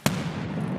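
A grenade bursting in a video game: a single sharp, loud pop at the start, trailing into a low rumbling decay.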